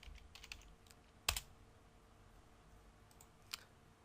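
Computer keyboard typing a short layer name while editing in Adobe After Effects: sparse, quiet keystrokes with one sharp louder click cluster and another near the end, close to the microphone and without talk.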